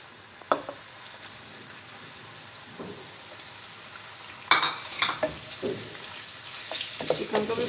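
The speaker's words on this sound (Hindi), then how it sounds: "चिकन को भी फ्राई करेंगे।" Chicken frying with onions in a karahi, with a low sizzle under intermittent scraping stirs that grow busier and louder toward the end, close up and without talk.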